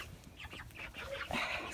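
Stray free-range hens cluck in a short burst of several close, choppy calls, with a louder cluck near the end.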